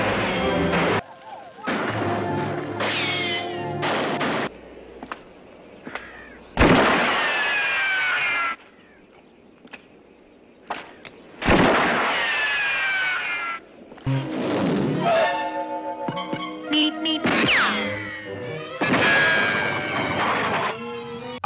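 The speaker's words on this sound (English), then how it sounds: "It's that famous stock bullet sound effect you've heard in countless westerns" Stock bullet ricochet effect dubbed onto the flying guillotine weapon in a kung fu film fight, sharp whizzing zings and impacts repeated several times amid loud fight clatter and music-like tones.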